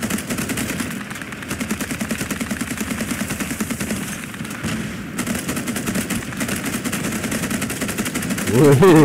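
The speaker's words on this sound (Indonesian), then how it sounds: "kita tembak dari jauh aja guys" Rapid bursts of automatic gunfire from the naval combat video game Age of Water rattle on steadily, overlapping with heavier booms toward the end.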